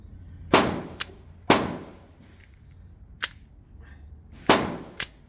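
Outdoor range shooting with new firearms at steel targets: five sharp, loud shots spread irregularly, each answered a split second later by a fainter metallic ping from the steel, with no talking.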